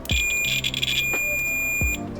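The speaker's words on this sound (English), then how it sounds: "Put it in diode mode. Should beep when there's a connection." A multimeter set to diode mode gives a steady high-pitched continuity beep that sounds for about a second, close and clear, with clicks from the probes.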